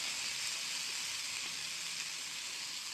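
Onion sizzling in a hot pan lightly coated with butter, a soft continuous hiss that stays even and fairly faint for the whole stretch, with no talk.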